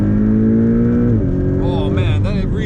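Porsche 718 Cayman GTS engine pulled hard toward the red line, a loud rising rev that peaks and then shifts pitch as the gear changes, heard from inside the cabin.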